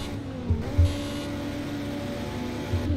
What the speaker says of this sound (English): Oh, the noise. The cars noise!